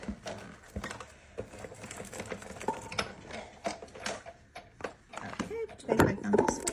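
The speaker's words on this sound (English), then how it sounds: "we're gonna roll it through our Sizzix Big Shot." A 6-inch Sizzix Big Shot die-cutting machine is cranked by hand while cutting pieces for a craft bow, giving a steady run of close, soft mechanical clicks and grinding under continuous talking.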